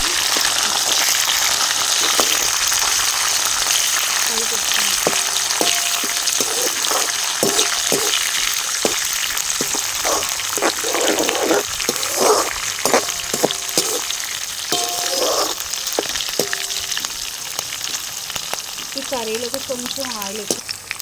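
Green chilli slits and sliced onions sizzle and crackle steadily in plenty of hot oil for a Telugu brinjal curry, a loud, continuous fry with occasional stirring clatters and no talking.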